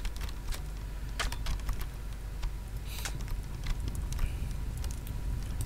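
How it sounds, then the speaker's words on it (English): Rain falling in RimWorld, a steady soft patter with scattered crackling ticks over a constant low rumble, even in level throughout and without any speech. "It's raining now, so I'll put all that lovely fire out."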